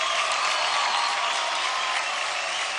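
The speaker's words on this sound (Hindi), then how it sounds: "जोरदार तालियां हो जाएं टीम जलवा के डांसिंग स्टार परवेज के लिए।" A studio audience at a televised dance competition breaks into loud, sustained applause, a dense unbroken wall of clapping that holds steady for the whole few seconds with no voices over it.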